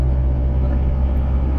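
A car engine labours in first gear, a loud, close, steady low drone with a constant pitch held throughout without change or pause.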